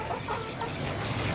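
Free-range village chickens on a small home farm clucking continuously under a dense, noisy background of other birds and ambient sound.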